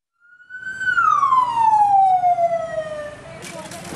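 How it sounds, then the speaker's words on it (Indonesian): A siren wails steadily with a falling pitch sweep under broadcast background noise, arriving at a city hospital in Bengkulu where ambulances are bringing in boarding-school students after food poisoning; it sounds fairly loud and near, fading slightly at the end. "mobil ambulans terus berdatangan ke RSUD Kota Bengkulu"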